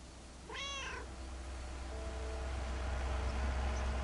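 A cat in the video game Lake gives one short, clear meow over a quiet outdoor ambience with a soft rustling hiss.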